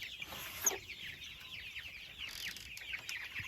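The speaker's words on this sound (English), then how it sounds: "This week we got another batch of 300 broiler chicks." A large batch of about 300 broiler chicks in a small brooder, a dense chorus of high peeping and cheeping chirps overlapping continuously at moderate volume, with no talk.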